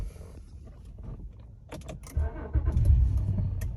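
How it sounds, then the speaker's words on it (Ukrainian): Keys jangle and click, then a 2016 Honda Accord engine cranks and catches, settling into a low steady idle close by. "Зараз заведемо автомобіль."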